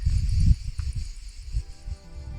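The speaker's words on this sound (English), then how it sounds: "it is so peaceful with those cicadas too" Steady chirring of cicadas fills the background during a bicycle ride through lavender fields in Provence, a continuous buzzing drone with low rumbling wind or handling noise underneath.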